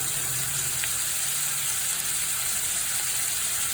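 Pumpkin steaming in oil inside a covered pan, giving a steady, even sizzle with a bright hiss that holds constant and close throughout.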